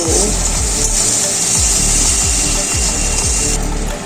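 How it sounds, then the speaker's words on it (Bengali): Masala being stirred and fried in a pan for a katla fish curry, with a steady loud sizzle and repeated scraping strokes of a spatula in a regular rhythm, close up, with no talking. "তারপর আবারও নেড়ে চেড়ে নিচ্ছি ভালো করে কষিয়ে নেব"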